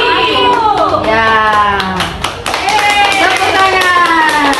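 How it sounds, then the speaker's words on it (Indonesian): Children in a preschool classroom clap their hands after a candle-under-a-glass experiment, with scattered claps mixed under lively, overlapping young voices that chatter and call out throughout. "Tepuk tangan."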